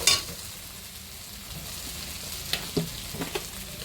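Hot oil crackles and sizzles in a pan readied for frying fish, a soft, steady hiss with a few sharper pops and spits toward the end, close by and unaccompanied by talk.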